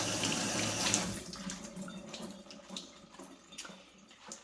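Water runs steadily from a kitchen sink tap while salad greens are rinsed, a soft close splashing that fades and wavers slightly toward the end.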